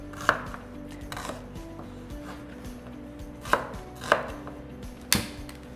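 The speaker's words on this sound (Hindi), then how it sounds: "ऐसे ही प्याज के भी चंक्स काट लेंगे हम।" A knife chops an onion into big chunks on a board, with a few sharp, separate knocks spread out over a faint steady background hum.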